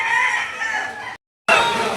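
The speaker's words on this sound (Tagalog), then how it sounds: "Ito ang kaganapan dito sa loob ng bintahan ng manok" Chickens and roosters cluck and crow at a busy poultry market in San Pablo, a dense loud chorus of fowl calls broken by a brief cut to silence.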